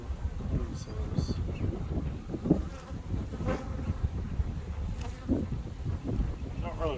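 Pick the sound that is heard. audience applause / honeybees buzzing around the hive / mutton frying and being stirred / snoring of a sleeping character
honeybees buzzing around the hive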